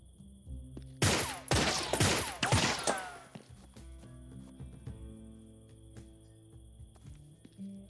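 Gunfire in the video game 3 Minutes to Midnight: a loud burst of several rapid close shots over about two seconds, then ringing echoes and quieter game ambience.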